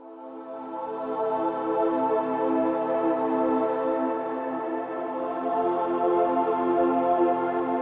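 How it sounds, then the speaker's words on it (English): A soft, airy synth pad from the Atmosphere 3 plugin swells in and holds a smooth sustained chord, steady and mellow, heard alone without talk. "This is a nice airy pad."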